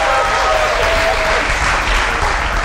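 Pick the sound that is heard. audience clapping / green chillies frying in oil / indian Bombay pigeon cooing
audience clapping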